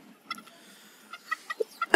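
Several short, soft clucks from chickens pecking at insects, spaced irregularly over a quiet background, with a slightly louder cluck at the very end.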